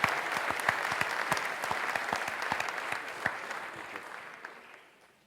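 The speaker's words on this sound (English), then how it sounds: "let's give Will a round of applause, please" A tech forum audience gives a round of applause for a presenter, a full, even wash of many hands with sharper individual claps, tapering off and fading out over the last second.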